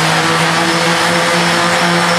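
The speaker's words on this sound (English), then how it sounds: "Then I go back to my rotary sander" A rotary sander runs steadily while flattening shell inlay on a custom guitar body, a loud, continuous whirring drone with a constant hum and no breaks.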